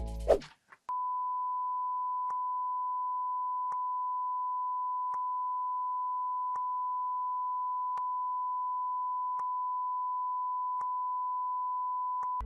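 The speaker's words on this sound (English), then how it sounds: "Although Jason put a beep over this part of the show" A sustained pure electronic censor beep holds one steady tone for about twelve seconds, cutting over speech on a show, with a short burst of sound just before it starts.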